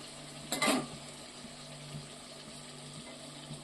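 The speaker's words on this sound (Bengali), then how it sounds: "এইভাবে আমি সবগুলোকে ভেজে নিচ্ছি ফুলছে কিন্তু একদম দারুণ পুরো ফুটবল" Potato and flour dough balls frying in hot oil, with a brief loud sizzling burst early on and then a steady low bubbling hiss that carries on to the end.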